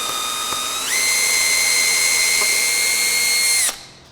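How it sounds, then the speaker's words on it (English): A power drill whines steadily and loudly while it drills holes in a metal Oz clip on the back of an artwork. The pitch climbs once the drill speeds up, then the sound stops abruptly. "then I'm going to drill those holes out."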